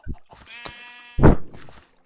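Sheep bleat in the Minecraft video game, a couple of short, loud, nasal bleats close by, with brief soft game noises and a quiet pause around them.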